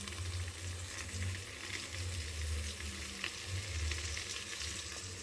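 Food fries under a lid in a home kitchen pan, giving a steady, dense sizzle at close range with faint stirring scrapes and a low hum beneath, and no voices.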